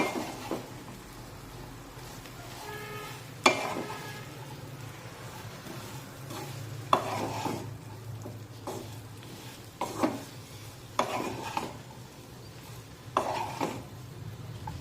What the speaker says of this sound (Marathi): ही कापून घेतलेली सिमला मिरची टाकूया मिक्स करून घेऊया